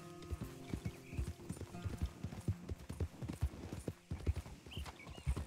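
Horse hooves clip-clopping at a quick, steady gait in a Wild West video game, clear and close, with a brief neigh and faint voices in the background.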